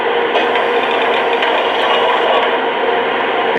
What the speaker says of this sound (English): Here's the sound of one of the pantographs going up.